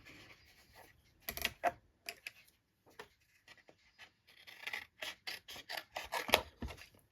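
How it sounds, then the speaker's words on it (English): Scissors cutting lace for a junk journal, heard as faint, close snips and paper rustles in uneven bursts, with quiet gaps between cuts and no voices. "So let's go ahead and cut out"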